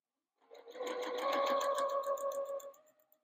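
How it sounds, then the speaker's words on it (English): A sewing machine stitches quilt fabric in one steady, close run of about two and a half seconds, starting after a short silence and slowing to a stop, with no talk. "We're gonna keep the edge of our fabric to the inside of that quarter inch line, and then start sewing."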